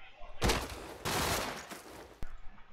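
Gunfire in a competitive first-person shooter match at a LAN playoff, several rapid bursts of shots with loud sharp onsets in quick succession.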